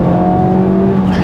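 A front-wheel-drive Honda Civic Type R FL5 with around 320 horsepower drones steadily under acceleration, a loud, close engine note holding nearly level through a brief pull.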